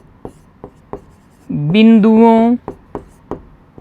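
Pen or marker strokes on a board or notebook during a Class 10 coordinate geometry maths lesson, a series of short scratchy taps spread across the clip, with a brief spoken word in the middle.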